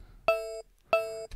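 A synth tone runs through a delay effect in send mode with the input gain turned down, sounding as two separate clean beeping notes that each sustain briefly and then stop.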